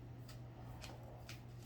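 Oversized glossy playing cards being shuffled, a few quick soft riffling bursts over a low steady hum, quiet and close.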